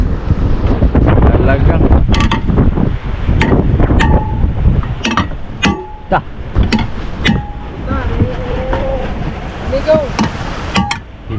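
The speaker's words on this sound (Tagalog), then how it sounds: "lakas ng hangin" Strong wind roars across the microphone in heavy gusts, with people shouting and talking over it outdoors on the water.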